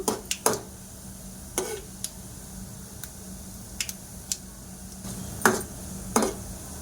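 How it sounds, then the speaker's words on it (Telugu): Cumin and coriander seeds dry-frying in a pan for a cabbage pachadi, giving a soft steady sizzle broken by scattered sharp pops and clicks of seeds and utensil taps, close and fairly quiet with no talking. "ధనియాలు, జీలకర్ర ఫ్రై అయిపోయినాయండి, తీసేద్దాము."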